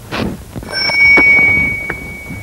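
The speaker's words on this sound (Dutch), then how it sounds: "De bel, die wil ik even horen van u." A bicycle bell rings close by with a clear, sustained ring that slowly fades, set against soft rustling and handling noises.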